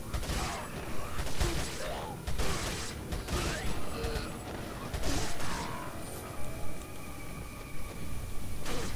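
Rapid submachine gun bursts from a TMP in Resident Evil 4, dense mechanical rattles and crashes layered over constant game noise, with short loud clusters repeating through the stretch and a voice faintly present.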